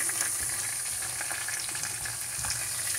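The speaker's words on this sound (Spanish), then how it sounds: "aquí friéndome unas ricas papitas y un rico pescado" Fish and potatoes seasoned with garlic and oregano sizzle steadily in a frying pan, a close, continuous crackle of hot oil with faint popping.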